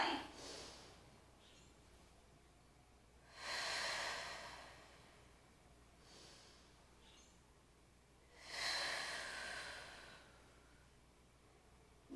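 Slow, deliberate breaths during a standing stretch: two long, soft airy exhalations several seconds apart, with quieter inhales between them, close and alone with no talking.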